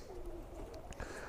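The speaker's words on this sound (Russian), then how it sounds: "Это мои голуби." Domestic pigeons coo softly in a homemade dovecote in a yard, a few faint, low, throaty calls set against a quiet outdoor hiss.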